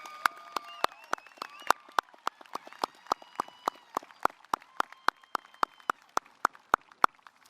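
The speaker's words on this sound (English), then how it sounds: "Let's give them a round of applause." Applause at a high school commencement ceremony arrives as steady, evenly spaced claps, about three per second, sharp and distinct over a faint tonal hum in the hall.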